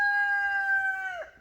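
A single rooster crow rings out, a long, clear, sustained call that drops off sharply at the end, heard alone and fairly close.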